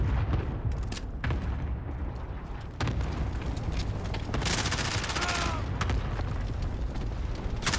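Rapid automatic gunfire from an MP7 in the video game Call of Duty Modern Warfare, several loud sustained bursts with brief pauses between them, close and dense.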